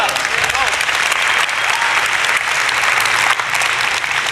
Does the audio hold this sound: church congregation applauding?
yes